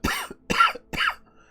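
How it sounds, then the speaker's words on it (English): Involuntary coughs, partly through the nose and partly through the mouth: three short, close bursts in a row, each a sharp hacking onset with a brief trailing catch, then quiet. "It's a completely involuntary cough."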